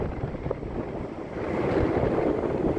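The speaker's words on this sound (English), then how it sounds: "It's a little windy today" Steady wind buffets the microphone at a beach at sunset, a dense, continuous rushing roar that swells slightly louder partway through, with no voices.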